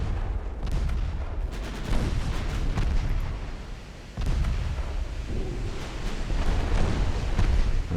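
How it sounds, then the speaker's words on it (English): Repeated heavy naval gunfire from the six 9-inch guns of an Ariadne class warship in a naval combat game, deep booming blasts and rumbling explosions recurring irregularly through a continuous low roar, with no talking. "That's the 6 9-inch guns from the Ariadne class."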